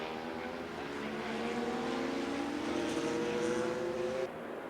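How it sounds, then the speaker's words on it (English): A Yamaha racing motorcycle engine at the 1993 Daytona 200 holds a sustained high-revving drone that climbs gradually in pitch as it passes, loud and continuous, then drops away abruptly near the end. "Lawson's Yamaha now circulates alone at the front"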